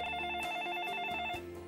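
Incoming call on a live television call-in show: a fast warbling telephone ring repeats in quick pulses, clear and fairly close, briefly before the line is picked up.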